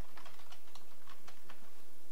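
Rapid typing on a computer keyboard, a steady run of light, close key clicks against a constant background hiss, with no talk.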